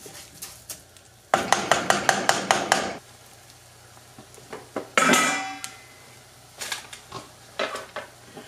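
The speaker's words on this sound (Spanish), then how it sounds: "Y lo vamos a mover muy bien para que todo se mezcle" Metal spoon scraping and clanking rhythmically against a pot while rice, bacon and onion are stirred, with bursts of clatter and a brief sizzle, no talking.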